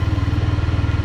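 A motorcycle engine runs with a fast, even low throb, close and steady, its pulses repeating rapidly through the short moment.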